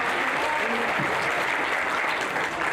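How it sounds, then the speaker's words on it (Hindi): Sustained audience applause at a stand-up comedy show in Karachi, a dense steady clatter of many hands clapping close by that runs unbroken throughout without any talk. "बहुत सी तालियां होनी चाहिए तालियां के लिए जी।"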